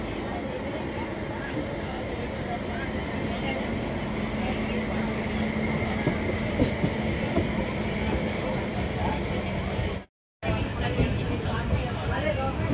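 A goods train hauled by two WDG4 diesel locomotives from the Lalaguda shed rumbles past in a continuous, fairly loud roar, broken only by a brief dropout near the end.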